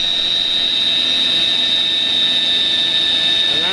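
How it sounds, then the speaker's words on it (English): A two-stage Tesla turbine runs steadily with its pump stage drawing in air, a loud continuous whine with a strong high tone over a broad rushing roar, close and unbroken throughout. "The pump stage is drawing air in from the turbine stage."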